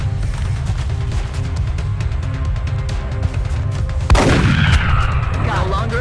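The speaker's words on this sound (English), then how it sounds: "She just shoot him twice." Gunfire in XCOM: Enemy Within: a steady rattling stretch of combat noise, then a single sharp, loud shot near the end followed by a ringing decay.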